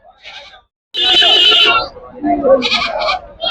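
Loud goat bleats ring out in bursts, one long cry then several shorter ones, amid a busy crowd of livestock and people talking at the Guduru sheep and goat market.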